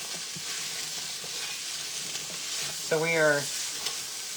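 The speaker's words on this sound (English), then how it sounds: "kind of sauteing our onions and our carrots." Onions and carrots sautéing for beef bourguignon make a steady, close sizzle that fills the whole span, while someone speaks briefly toward the end.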